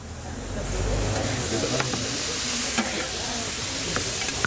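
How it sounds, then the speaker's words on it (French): Rougail sausages with tomatoes simmer and sizzle on a plancha, a loud, steady frying hiss with occasional pops and faint stirring, with no talk over it. "Là, ça mijote, on va laisser bien mijoter"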